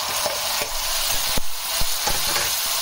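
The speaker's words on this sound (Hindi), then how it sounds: "उसके बाद हम इसमें टमाटर शामिल कर रहे हैं" Tomatoes hit a hot pan of butter methi palak with a steady, bright sizzle, close up, broken by a few sharp stirring scrapes and clacks, with no talking.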